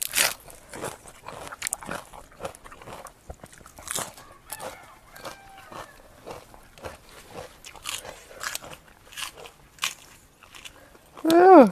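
A child crunches on crisp vegetables alongside grilled squid, a series of close, irregular bites and chews over several seconds, followed by a short loud voice at the end.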